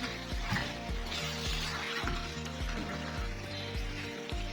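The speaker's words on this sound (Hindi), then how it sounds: "अब मैं इसको अच्छी तरह से मिक्स कर लूँगी।" Cream is mixed into mutton karahi in a pan, giving a quiet, continuous sizzle with soft stirring sounds. A low rhythmic thumping pulse runs underneath.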